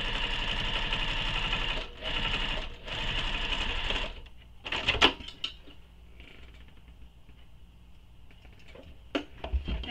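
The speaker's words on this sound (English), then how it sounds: "So now I'm top stitching at that top edge." A sewing machine runs in two steady bursts while top stitching a pocket edge on a sling pack, broken by a brief pause, then stops and gives way to faint handling clicks and rustles.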